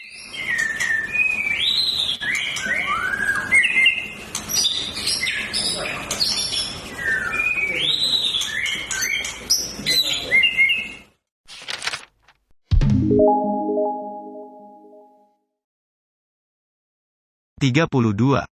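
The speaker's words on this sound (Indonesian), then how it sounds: "murai batu yang berasal dari Medan, diakui sebagai murai batu kualitas terbaik" Murai batu (white-rumped shama) from Medan sings a rich, varied song of rapid whistled phrases and trills, loud and close for about eleven seconds, followed by a short break and then other brief sounds.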